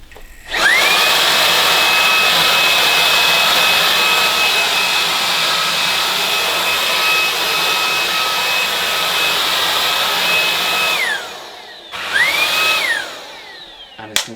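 A Hoover H-Free 500 cordless vacuum cleaner with its carpet brush runs at a loud, steady whine for about ten seconds, winds down, then briefly spins up and stops again, close to the microphone.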